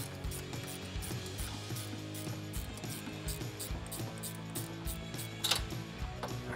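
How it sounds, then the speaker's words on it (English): A ratcheting 8 mm wrench backs a nut off, giving a steady, close series of fast metallic ratchet clicks in a regular rhythm, with one sharper clink near the end and no talking. "Then I have a ratcheting 8 millimeter. I'm gonna utilize the end here and take that nut off"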